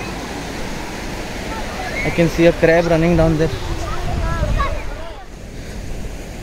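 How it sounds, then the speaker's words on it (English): Ocean waves breaking on the white sand of Agonda Beach in South Goa, a continuous broad wash of surf with wind buffeting the microphone, while someone talks over it. "All you can hear is the sound of the waves most of the time."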